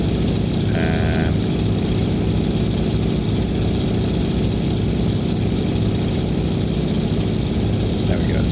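The radial engine of a de Havilland Beaver in the X-Plane 11 flight simulator runs at a steady, loud drone with a throbbing low rumble, continuous throughout, with a voice talking over it.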